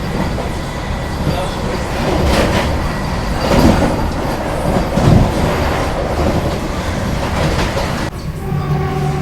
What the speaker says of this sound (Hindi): तमिलनाडु संपर्क क्रांति एक्सप्रेस को हम लोग ओवरटेक कर रहे हैं यहाँ पर